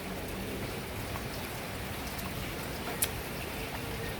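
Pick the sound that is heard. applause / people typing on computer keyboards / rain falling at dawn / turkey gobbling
rain falling at dawn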